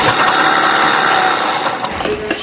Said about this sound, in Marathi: याच्यावरती अशी शिलाई मारून ठेवायची जे मध्ये आहे तिथं लाईन आखायची आणि शिलाई मारून घ्यायची